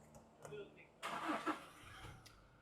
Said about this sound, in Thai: เหยียบเบรกสตาร์ทได้เลย